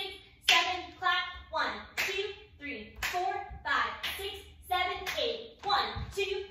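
Cheerleading routine with rhythmic hand claps landing roughly every half second, mixed with counting voices and shouts from the squad, close and lively.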